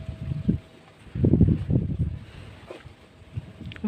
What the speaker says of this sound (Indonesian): Tuh anginnya datang.